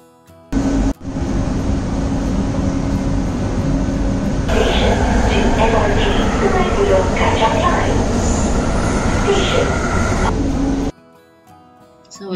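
A driverless, remote-operated metro train in Kuala Lumpur riding along, heard from inside as a steady loud rumble and rail roar that continues for several seconds before dropping away.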